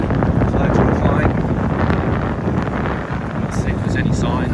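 Strong wind gusts across an outdoor protest march, roaring and buffeting loudly against the microphone with flags flying, a muffled voice faintly under the rushing noise.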